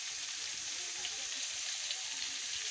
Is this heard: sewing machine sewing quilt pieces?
no